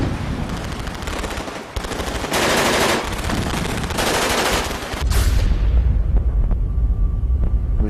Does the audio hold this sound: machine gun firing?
yes